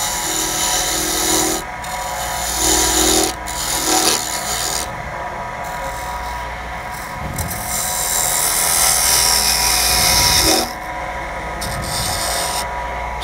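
A wood lathe spins as a tenon is cut on an ice cream scoop handle, steady motor hum beneath scraping, rasping tool-on-wood cuts that come and go in bursts, close and fairly loud, no talking.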